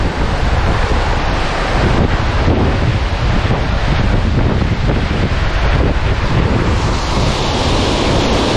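Strong mountain wind in the Dolomites buffets the microphone in a constant, loud roar with gusty surges, mixed with a broad rushing sound like surf.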